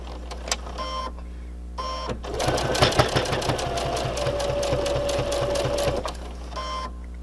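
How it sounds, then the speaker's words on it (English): A sewing machine stitches sail fabric, first with two brief bursts, then a sustained run of rapid, rhythmic needle strokes for about four seconds, loud and near, with no speech. "I'm going to stitch a little forward, and then I'm going to stitch back"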